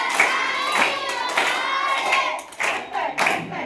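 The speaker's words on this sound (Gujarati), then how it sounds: "જોની જો કર તાળીઓ પાડે" Hands clap in a steady beat through a Gujarati children's song about Johnny Joker, several crisp claps standing out over a sung melody and bright backing music.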